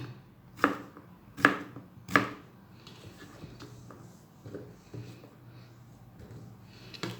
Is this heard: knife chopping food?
yes